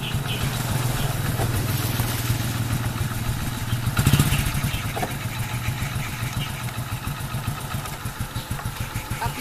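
A motorcycle engine running close by, a steady throbbing idle with a brief rev and clunk as it is put into first gear, then continuing to pulse evenly.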